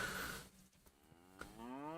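A cow in Kingdom Come: Deliverance moos once in a long, low, drawn-out call, close and clear, with no speech.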